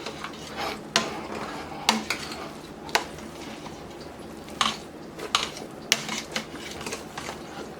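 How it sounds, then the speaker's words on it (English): Potatoes mashed by hand in a pot, with irregular clanks and scrapes of the masher against the pot over a soft squishing background, close and without talk. "mash and keep mashing until it smooths out"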